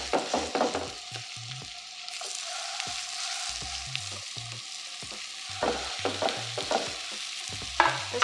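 Hamburger-style patties frying in a heavy skillet, with a steady close sizzle broken by repeated stirring and scraping clatter and low thumps of a utensil against the pan, no talking.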